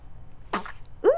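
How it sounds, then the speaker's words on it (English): A baby's sneeze, a short breathy burst followed a moment later by a brief voiced squeak, close and fairly quiet in a calm indoor room. "Ooh, sneeze."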